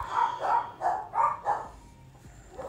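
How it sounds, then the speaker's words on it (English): Dogs barking at home, a rhythmic run of five quick, moderately distant barks followed by a short pause and one fainter bark. "And my dogs are barking."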